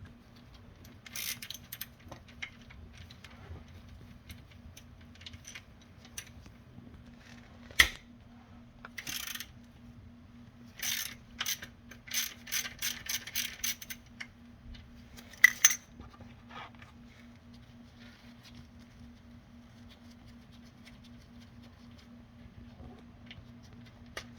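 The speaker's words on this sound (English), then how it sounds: "That's going to be a size 11. Let's go ahead and get that loosened." A Ford 6F50 transmission drain bolt is loosened with an 11 mm wrench, giving close, sharp metallic clicks and rapid ratcheting bursts over a quiet, steady hum, with no talking.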